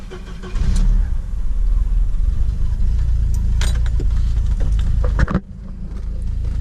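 Volvo car engine running with excess oil in the intake, a loud, close, steady rumble that briefly revs, then drops off sharply before settling into a lower idle.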